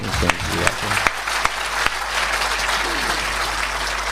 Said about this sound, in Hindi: Guinness book of world record के कवि के लिए इतनी कम तालियां अच्छी नहीं हैं।